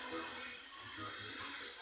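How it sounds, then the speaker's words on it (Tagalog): A little water is poured into a pan of stingray cooking in coconut milk, giving a steady close hiss and gush that runs throughout, with faint low murmurs beneath. "Maglagay tayo ng kunti lang tubig ha, para nga hindi mabatik."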